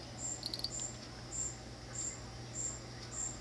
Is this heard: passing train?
no